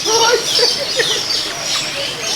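Assorted birds call inside an aviary enclosure at Animal Kingdom, beside the Asia area, with overlapping chirps and squawks filling the space against a constant background hum.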